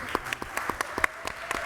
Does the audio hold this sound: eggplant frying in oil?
no